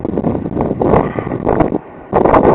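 Wind gusts across open Kansas farmland, buffeting the microphone in loud, uneven rushes with a short lull before picking up again.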